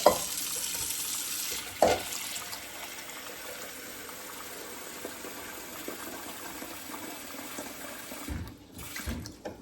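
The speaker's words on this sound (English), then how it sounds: "just want some cold water in there" Cold water runs steadily from a tap into a pot, a continuous rushing fill with a couple of clanks, close up and without speech.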